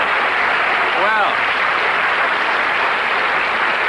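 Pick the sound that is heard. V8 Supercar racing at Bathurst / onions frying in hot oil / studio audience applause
studio audience applause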